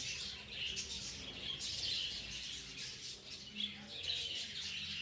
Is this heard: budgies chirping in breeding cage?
yes